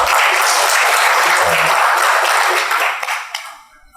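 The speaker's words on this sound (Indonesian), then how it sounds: "Tepuk tangan dulu untuk itu." An audience at a government ministry event on foreign organization cooperation bursts into thick, steady clapping that holds for about three seconds, then thins out and fades.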